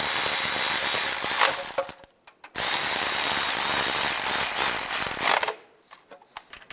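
A ratchet tightens bolts on the rear main seal plate of a 2007-2013 Chevy Silverado: two long runs of rapid, loud, close clicking separated by a brief pause, with a few faint clicks at the end.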